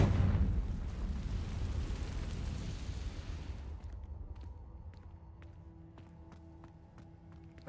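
A Confringo blasting spell from Hogwarts Legacy explodes in a loud burst, then a rumbling roar fades over several seconds into quiet, leaving sparse sharp clicks and crackles.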